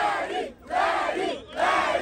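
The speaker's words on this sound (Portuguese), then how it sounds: "Muito barulho pro Lenny" A crowd at a Brazilian freestyle rap battle cheers and shouts loudly in two surging bursts separated by short dips, close and energetic.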